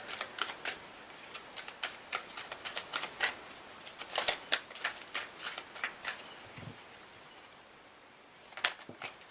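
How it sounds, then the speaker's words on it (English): A deck of large oracle cards, too wide for an easy hand span, is shuffled close up. Rapid papery riffles and slaps repeat in uneven bursts, pause briefly near the end, then resume. "just got to get used to holding these cards. They're just right out of hand span to try and shuffle."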